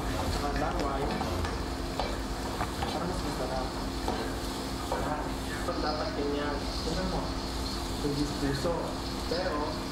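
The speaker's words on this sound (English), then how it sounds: "Stir the red garlic, Justin." Red garlic sizzles and fries in a pan while being stirred, a steady dense crackling hiss throughout, with a voice talking over it.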